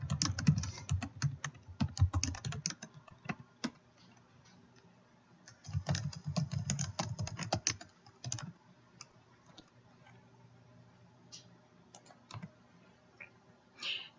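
Bursts of quick typing on a computer keyboard, close and clear, with a couple of dense runs of keystrokes separated by quieter stretches of scattered single clicks.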